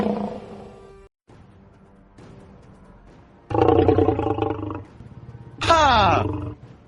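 A lion roars as it rushes out of an iron-barred cage, with loud bursts of roaring and growling in a dramatized arena scene, followed by a high sweeping roar near the end, alongside narration.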